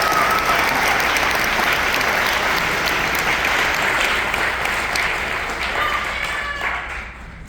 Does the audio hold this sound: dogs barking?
no